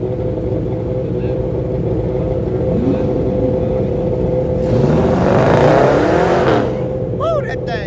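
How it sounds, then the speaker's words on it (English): Sports cars driving out at a performance driving school, engines droning and revving nearby, with one car rising in pitch as it accelerates past and a voice talking over the noise. "they got some more cars going out"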